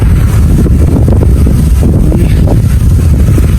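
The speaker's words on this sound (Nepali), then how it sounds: "हावा चाहिँ डेन्जर लगाइरहेछ" Strong wind roars and buffets the microphone during a bicycle ride in a constant low rumble, with no voices.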